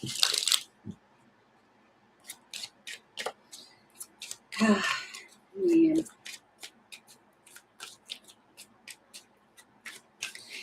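Playing cards shuffled by hand in a quiet room, a long run of crisp riffling snaps and flutters in quick bursts, close and clear, with a brief voice in between.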